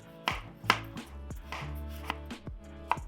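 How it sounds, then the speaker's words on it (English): A knife chops carrots into thin strips on a cutting board, sharp knocks landing steadily in an uneven rhythm, close up with no voices. "chopping the slices into thin strips"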